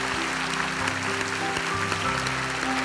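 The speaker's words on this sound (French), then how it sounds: "Qu'on applaudit, mesdames, messieurs, Ferdinand." Studio audience applause at a French television talent show for young performers, a steady wash of clapping from a crowd with a faint musical hum underneath and no talk.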